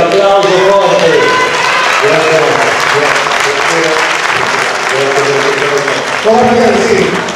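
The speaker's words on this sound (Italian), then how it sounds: "Grazie, l'applauso forte." Loud applause from the audience at a culture gala after a choir performance, steady clapping running throughout while a voice talks over it at intervals.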